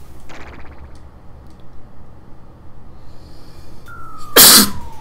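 A single sharp sneeze bursts out near the end, loud and close, against a quiet room background with a faint tone and a brief earlier rustle.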